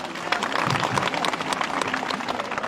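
A crowd claps and cheers together in a dense, continuous burst of applause, loud and close.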